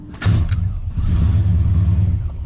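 A truck engine turns over and catches, then settles into a loud, steady, close running rumble.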